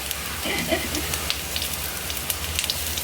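Green chillies frying in hot oil for Kerala inji puli, giving a steady, dense sizzle and crackle throughout, with faint voices in the background.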